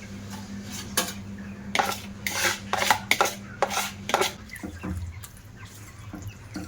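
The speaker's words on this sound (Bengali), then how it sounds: "এবার আমি কড়ার মধ্যে চিড়েটা ঢেলে দেব" Dry flattened rice (chira) poured into a wok on a stove, a series of scattered rattling, clattering bursts against metal with a steady low hum underneath, close and fairly quiet.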